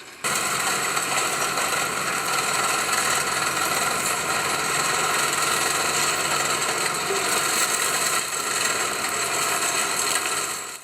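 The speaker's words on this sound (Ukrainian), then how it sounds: "доглядають за однорічними соснами з допомогою трактора та мульчувача" A tractor-mounted forestry mulcher with chain flails clears growth between rows of one-year-old pines in a Ukrainian forest, making a loud, continuous, dense roar and grinding with no break.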